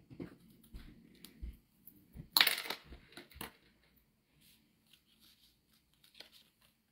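Scissors snipping around a strip of Poppy Parade border ribbon for a Valentine's craft project, a few crisp close cuts in a short burst followed by quieter rustling and light handling.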